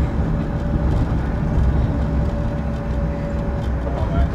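Tata Tiago.ev electric car running during a regenerative braking test, a thin steady electric whine over broad road and cabin rumble, continuous and fairly close.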